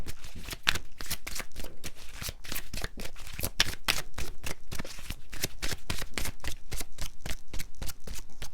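Angel oracle cards are shuffled close up in a steady, dense run of papery riffles and flicks that continues without pause, with no talking.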